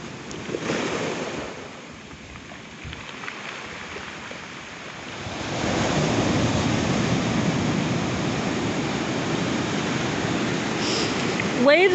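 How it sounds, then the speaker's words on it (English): Ocean waves roll in at North Beach, Port Townsend, a continuous broadband surf roar that swells louder partway through, with wind buffeting the microphone. "Waves like this are so invigorating"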